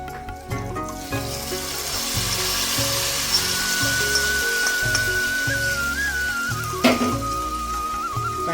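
Hot tempering tipped into a pan of jackfruit payasam with the gas off, giving a steady crackling sizzle close by that carries on without talk, with a louder spit near the end.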